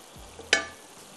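A cup of beaten curd goes into green masala pulao frying in a pan with boiled mutton, giving a single wet splat followed by a short sizzle that fades within half a second over a faint pan hiss.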